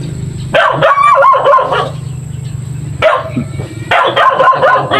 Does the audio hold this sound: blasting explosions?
no